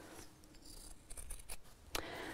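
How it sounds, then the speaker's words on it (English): Sharp scissors snip the corners of sewn fabric for a round bamboo-handled bag, several quick close cuts in a short irregular run, ending on one crisp louder snip. "Let's snip off the corners."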